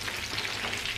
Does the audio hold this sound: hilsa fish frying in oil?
yes